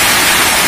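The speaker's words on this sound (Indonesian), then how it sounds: "Dengar air terjun rasanya damai." Jembong waterfall in Buleleng, Bali: a loud, close, continuous roar of falling water, a dense hiss with no breaks and no voices.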